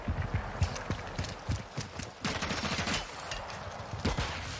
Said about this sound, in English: you can hear his footsteps loud and clear